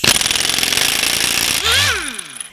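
Impact wrench with a 30 mm spline socket loosening a nut while a drive shaft is replaced, a loud rapid rattling hammer for about a second and a half before the motor whines down and stops.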